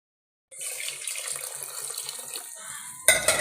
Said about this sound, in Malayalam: നമുക്ക് അരിന് പാകത്തിന് വെള്ളം ഒഴിക്കാം